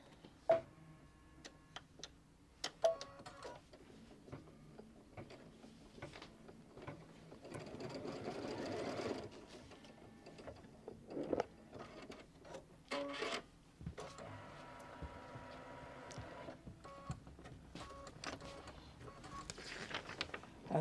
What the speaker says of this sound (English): So we'll just back it up about a few stitches and let it stitch that corner.